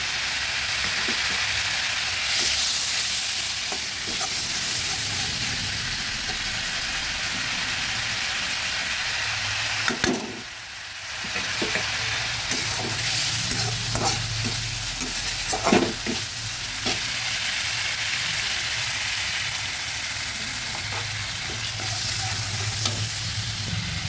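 Turmeric and slit green chillies frying with chopped banana flower in a pan for a vegetarian ghonto: a continuous close sizzle with repeated scraping stirs, briefly dipping midway before the frying and stirring resume, no talk.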